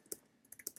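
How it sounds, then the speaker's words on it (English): Computer keyboard keys tapped in a short, uneven burst of quiet clicks, close and faint, with no voices. "I'm going to type that in here."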